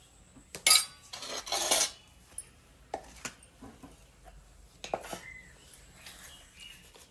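A spoon clatters against a bowl while spices and salt are mixed into bhaji batter, making a few sharp scraping bursts followed by scattered lighter clinks, close by and otherwise quiet.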